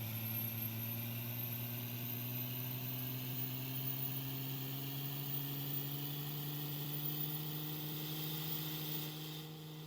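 A large-displacement six-cylinder truck engine in American Truck Simulator drones steadily at a constant low pitch, rising gradually, with no talking over it.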